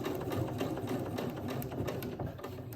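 A sewing machine stitches bias binding onto clothing, a steady fast whirring rattle running continuously at close range with no talk.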